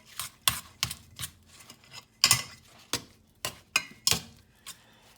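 Meatball mixture with eggs is worked by hand in a bowl, giving soft irregular squishing and light clicking knocks at close range, no voices.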